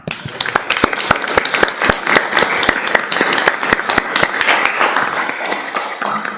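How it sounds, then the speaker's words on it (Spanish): Audience applause with distinct, close individual claps rapping out in a brisk irregular rhythm over a fuller bed of clapping, fairly loud and sustained with no talking. "Se merece un aplauso"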